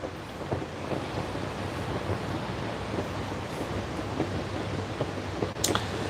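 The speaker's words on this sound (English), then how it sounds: "the sound of that river is so nice, or that creek is so nice" A creek flowing near a campsite gives a steady, dense rush of water that runs unbroken throughout, with no voices.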